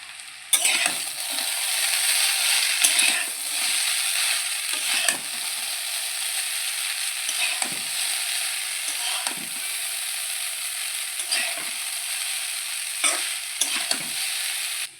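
Chow mein noodles sizzling in a pan while being tossed and stirred, with repeated scraping strokes of a utensil over a steady frying hiss.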